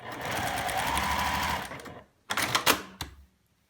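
A sewing machine stitches fabric with a steady rapid hum for about two seconds, then stops and gives another short, uneven burst of stitching.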